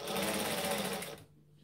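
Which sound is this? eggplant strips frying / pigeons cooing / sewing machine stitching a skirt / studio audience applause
sewing machine stitching a skirt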